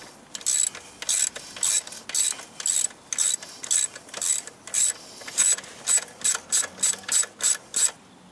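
A ratchet fitted with a 12mm socket undoes a brake linkage bolt on an ER 500 motorcycle during a rear drum brake job, giving about twenty sharp clicking bursts in a steady rhythm, close and alone.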